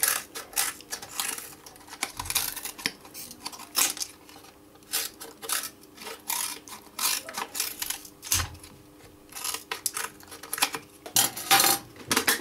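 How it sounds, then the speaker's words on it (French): Scissors snipping through a piece of plastic bottle while a bird feeder is being made: a run of crisp, irregular clicks and crackles, close and fairly loud, with short pauses between cuts. "je vais couper un morceau et on va voir si ça marche"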